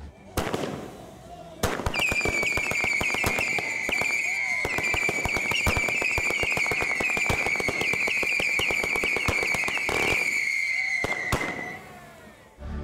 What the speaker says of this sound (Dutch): En geweldig vuurwerk